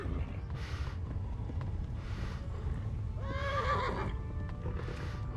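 A horse in Kingdom Come: Deliverance whinnies loudly midway through, set against steady hoofbeats and rhythmic clip-clop bursts with a low rumble underneath.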